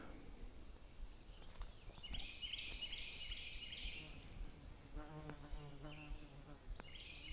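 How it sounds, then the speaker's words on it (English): Fly or similar insect buzzing around close by outdoors on a sunny day among green leaves, a wavering drone that comes and goes over quiet ambience, with faint bird calls behind. "That fly or whatever's buzzing around me"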